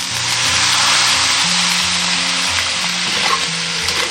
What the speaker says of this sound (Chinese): 再把这些大料跟料头全部炒香